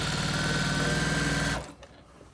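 Sewing machine back stitching a seam on a patchwork circle quilt skirt, a steady loud motor whir with fast needle rhythm that runs for about a second and a half, then stops abruptly into near silence.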